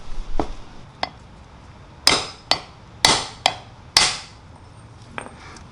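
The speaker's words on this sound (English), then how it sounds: "Just find the appropriate sized socket and tap it out." A socket tapped with a hammer to drive an O-ring out from the back of a 1992 Subaru WRX drivetrain part: a few sharp metallic knocks, then a quicker series of ringing strikes, close and loud with quiet gaps between.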